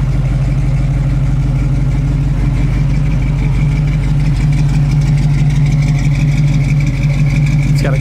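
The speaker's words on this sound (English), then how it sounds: "Got a great sound and dual exhaust." A 1968 Camaro RS/SS restomod idles with a deep, loud, steady rumble through its dual exhaust, the low throb holding even throughout with no voices over it.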